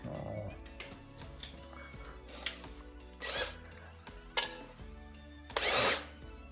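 A power drill whirs in short bursts while turning a golf cart engine crank, several brief spins of a motor separated by quiet gaps and small clanks of handling.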